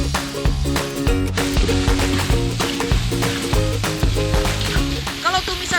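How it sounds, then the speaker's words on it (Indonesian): Spice paste sizzles loudly as it fries in a wok with tempeh, a dense continuous crackle and hiss close up, heard over cheerful rhythmic background music. "Saatnya kita masukin bumbu utamanya. Sreng!"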